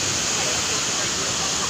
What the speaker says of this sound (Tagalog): Ang lakas ng bagsak. Pero ang falls sa amin, mababa lang.